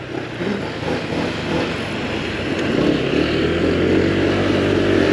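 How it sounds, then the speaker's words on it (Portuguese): A 2023 Honda PCX scooter is ridden at speed, giving a soft engine hum under a strong steady wind rush that builds slightly as it goes, with no talking. "Rapaziada, essa moto nem faz barulho, mano."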